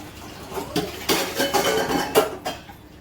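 Dishes and utensils clatter and clink in a burst of several knocks and scrapes, close by, with no talking.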